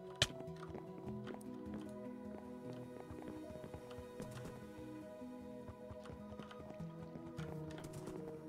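Horse hooves clip-clop in a Minecraft game in a quick, irregular patter of light taps that runs throughout. A sharp click comes near the start, and there is no talking.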